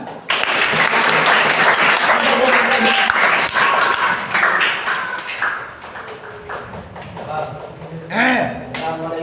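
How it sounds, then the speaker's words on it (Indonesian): Classroom students clap for a group presentation, a loud burst of close hand claps that thins into scattered taps and bumps as people settle, with voices talking over the later part. "beri tepuk tangan."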